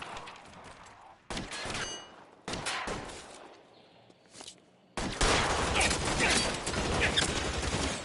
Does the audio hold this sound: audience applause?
no